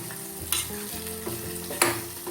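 Prawns fry with masalas in a hot pan, giving a steady close sizzle. Spatula stirs and scrapes break through it three times.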